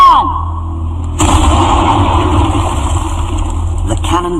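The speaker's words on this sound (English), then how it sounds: "The cannon blasts with unbelievable power." A cannon fires in a quarry with a sudden heavy blast about a second in, followed by a long roaring, rumbling rush that stays loud for several seconds.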